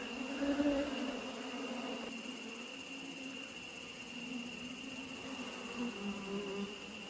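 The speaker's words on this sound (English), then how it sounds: "Look at all the festooning bees holding on." Honeybees drone in a steady, close buzz at an open hive during a box change, with a high-pitched hum layered over it, continuous and fairly soft.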